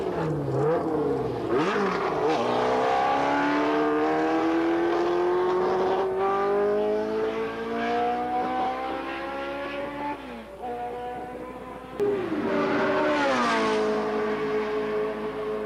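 Dome Zero race car at Le Mans testing, its engine screaming loudly up and down through gear changes, with rising and falling revs and a brief lift before accelerating again.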